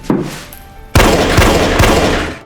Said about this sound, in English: Hearing gunshots, Jesse instinctively hides, but to his shock